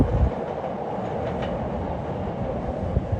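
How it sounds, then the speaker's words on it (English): Chicago CTA Purple Line Express and Red Line trains at Armitage station, one on the elevated track and one heading into the subway, rumbling loudly and steadily with a dense, continuous roar close by. "Purple Line Express on the elevated and the red line train going into the hole, into the subway."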